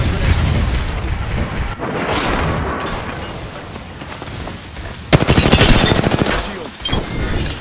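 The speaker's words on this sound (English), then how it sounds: "Shots fired, and they're hitting me." Rapid automatic gunfire in the Apex Legends video game, loud, close bursts of shots overlapping with booming impacts, growing denser and sharper toward the end.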